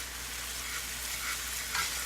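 Anchovy fillets sizzle steadily in a hot pan as they are mashed with the back of a fork, giving a continuous frying hiss with faint scraping and no talk.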